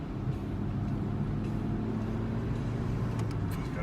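Car engine revving hard in second gear along a short straight stretch, a steady loud drone that holds close throughout without speech.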